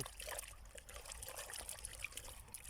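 Plain water trickles and pours steadily to dissolve a small measure of granular fertilizer for eggplant plants, a soft continuous liquid dribble heard up close with no talking.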